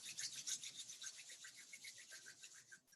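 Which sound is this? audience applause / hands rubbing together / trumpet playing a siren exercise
hands rubbing together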